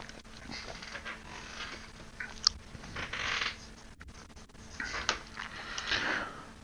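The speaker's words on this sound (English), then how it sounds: "Alright, let's hit the electronics printer." An electronics printer runs in the space-survival game Stationeers, giving a faint, steady mechanical whir with scattered clicks and ratcheting ticks over a few seconds, no voices.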